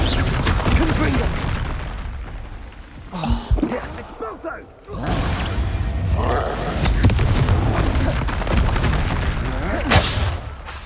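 A Confringo fire spell in Hogwarts Legacy goes off as loud, booming bursts over dense in-game ambience, with a brief dip in the sound before the rumble resumes.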